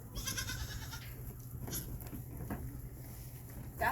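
Goats on a Nebraska goat farm, with a few soft, fairly close bleats and small rustling movement over a low steady background hum.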